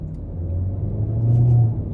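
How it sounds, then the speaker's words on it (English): A 2023 Hyundai Elantra Limited with a CVT pulls away in first of its manual-shift ratios, a low engine rumble building steadily inside the cabin over two seconds. "we can test out these manual shift controls. So starting off in first gear"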